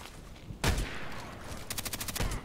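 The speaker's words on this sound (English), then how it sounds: "now we need two lovely, lovely, lovely long shots" Scar-L rifle shots ring out in a video game: one sharp loud report followed by a rapid burst of several cracks and a final shot, with reverberant tails between them.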